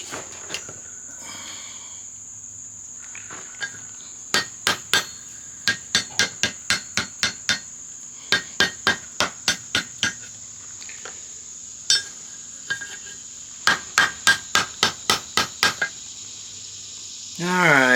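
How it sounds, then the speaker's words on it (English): Blacksmith hammering metal over the horn of an anvil while making a coat rack, sharp ringing strikes in quick rhythmic bursts of several blows, separated by short pauses, with a steady high-pitched whine in the background. "I think we're going to have to finish this up over the horn of the anvil,"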